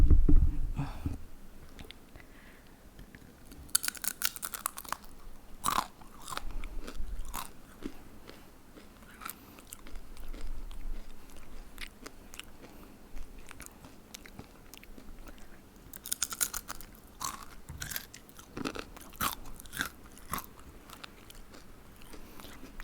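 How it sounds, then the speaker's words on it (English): Crisp bites and crunchy chewing of a Tumpi snack, close up and irregular, with sharp crackling bursts spread across a long stretch of eating. "Do you hear the crunch?"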